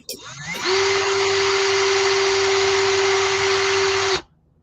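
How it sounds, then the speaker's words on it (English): A power drill spins up and runs with a steady high whine for about three and a half seconds, close and loud, drilling a small hole through a tiny piece of wood, then winds down. "An itty bitty piece of wood that you're trying to cut a 1/4 inch and drill a little hole straight through it."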